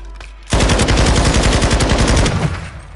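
Rapid enemy automatic gunfire in a video game erupts suddenly and loudly, a fast rattling stream of shots that runs for about two seconds before tapering off, with no voices over it.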